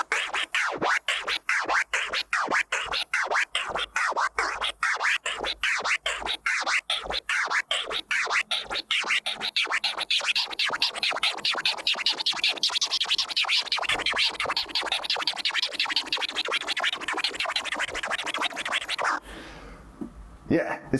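Rapid one-click flare scratches on a DJ turntable chop a sample into a steady stream of quick rhythmic cuts, repeating continuously and close up, ending with a brief pause and a few scattered sounds.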